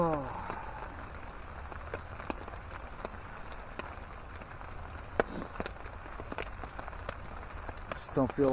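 Rain patters steadily on a tarp at a winter campsite in two feet of snow beside a stream, a constant soft hiss broken by scattered sharp drips close by, with a faint voice now and then.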